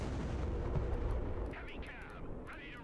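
Heavy artillery fire in the video game Broken Arrow: a dense, rumbling barrage of booms for the first second and a half, then whistling, sweeping shell sounds over continued low rumble.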